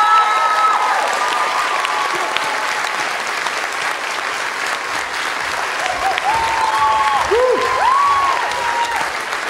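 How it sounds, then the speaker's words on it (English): Audience applause at the last-night thank-yous of a school production of Fame, crediting the tech department: dense, sustained clapping from a large crowd for about ten seconds, with faint voices and brief whistle-like tones over the top. "So another round of applause for our tech department."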